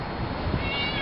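A cat meows in a backyard, a brief call over a steady, noisy background.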